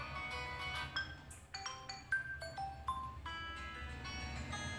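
Several short phone system ringtones play one after another, bright electronic melodic tones with brief gaps between them, no voices.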